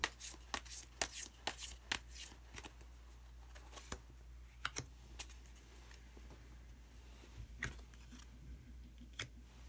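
A tarot card drawn from a deck during a reading: a series of soft, close papery snaps and slides, busiest at the start, then sparser flicks over a quiet room hum.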